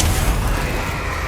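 A Bombarda spell detonates in Hogwarts Legacy, a short, loud booming blast with a deep low thump that decays quickly.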